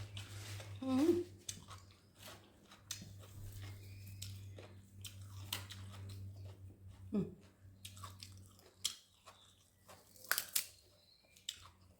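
Crunchy wild vegetables being chewed with som tam, giving close, irregular crisp bites and munching over a steady low hum, with voices talking at moments.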